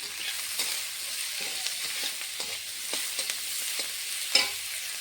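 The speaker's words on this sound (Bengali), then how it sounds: "পেঁয়াজটা ভাজা হবে লাল লাল করে।" Onions fry in a pan with a light salting, giving a steady soft sizzle that is broken by scraping stirs and a few sharper clinks, heard close with no talking.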